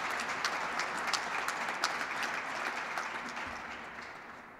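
An audience gives a round of applause for Carl Rollins at an education event, dense clapping with a few crisp nearby claps, gradually thinning and fading toward the end.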